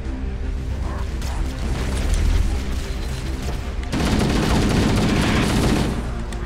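Rapid gunfire rattles through a Halo CE firefight, bursts of automatic shots and booms layered densely and growing heavier partway through, with no voices over it.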